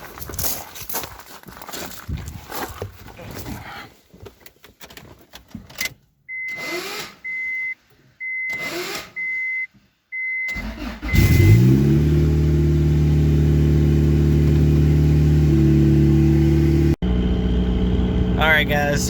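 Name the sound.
Turbo Honda Accord engine starting and revving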